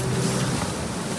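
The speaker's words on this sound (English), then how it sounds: "I have no idea how that Suzuki motor went through it" A Suzuki outboard motor boat runs on the Amazon River in Colombia, giving a loud, steady engine drone mixed with rushing water and wind buffeting the microphone, with no voices.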